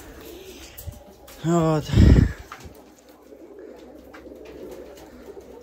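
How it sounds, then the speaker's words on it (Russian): Pigeons kept in a loft give a loud, close, rolling coo in one burst, with someone talking briefly and faint chirps and rustling around them. "вот эти голоногие, это голуби"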